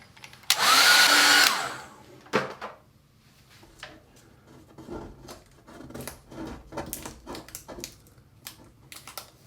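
A hair dryer blows loudly on a freshly painted watercolour ocean scene in one short burst of about a second, then cuts off. Light taps and paper-handling clicks follow.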